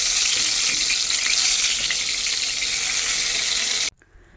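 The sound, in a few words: frying eggplant slices in oil in a wok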